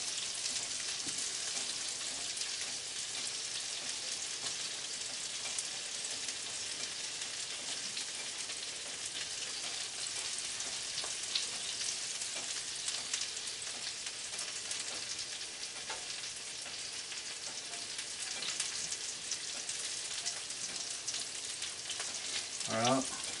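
Burger patty topped with blue cheese crumbles and onions on a grill: a steady, dense, close sizzle like hiss and spatter throughout, with only brief faint handling noises and no talk.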